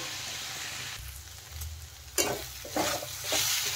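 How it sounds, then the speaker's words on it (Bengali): Banana flower with prawns being stir-fried in plenty of oil, a continuous loud sizzle with a spatula scraping and stirring through the pan in several louder bursts; no speech. "দিয়ে কিন্তু এখন মোচা ভালো করে ভেজে নিতে হবে"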